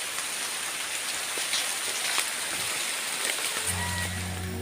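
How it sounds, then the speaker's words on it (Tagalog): Sudden heavy rain pours down in a mountain forest, a loud, dense, continuous hiss of drops on leaves and ground, with a low steady tone entering near the end. "Ngunit ang ulan ay bumuhos ng bigla."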